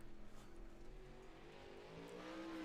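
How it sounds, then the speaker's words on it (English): Pro late model race cars run practice laps on a dirt track, their engines droning steadily at a distance with a faint pitch rise as one accelerates, continuous and without talk. "And we already got some cars on track."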